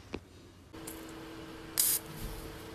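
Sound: WD-40 rust remover being sprayed on a rusty bicycle pump

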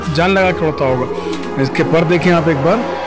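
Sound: pigeons cooing

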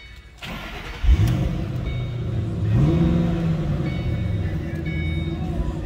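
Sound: Ford Mustang engine starting and revving

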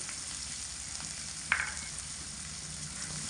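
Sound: chopped onion with ginger and green chilli paste frying

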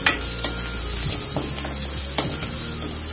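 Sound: onions sautéing in a pan

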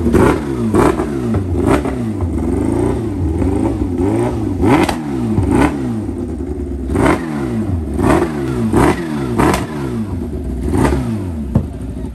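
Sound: motorcycle engine revving with a misfiring cylinder

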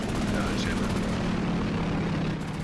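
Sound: airplane flying overhead in a war video game

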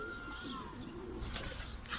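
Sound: pigeons arriving and cooing

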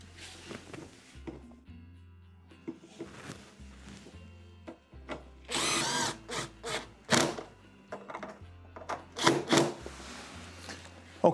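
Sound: reinstalling screws in a Frigidaire refrigerator

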